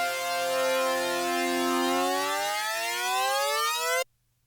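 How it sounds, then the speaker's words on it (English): Synthesizer riser sweep for electronic music: a bright, buzzy sustained tone gliding steadily upward in pitch for about four seconds, then cutting off abruptly into silence. "doing a pitch rise with the actual synthesizer itself will make things any more smooth,"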